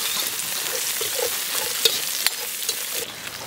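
Chicken tails frying in a hot pan, a dense steady crackling sizzle up close with a couple of sharper pops, no voices.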